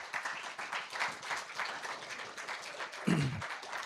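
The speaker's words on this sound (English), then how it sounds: "Let's give him a round of applause." A church congregation gives a round of applause at a Sunday evening service, a continuous moderate patter of many hands with one low thump near the end.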